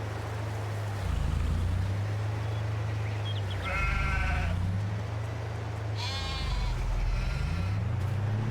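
Sheep bleat in the Farming Simulator video game, with two distinct bleats, one near the middle and one later, rising over a steady low mechanical drone. No one speaks.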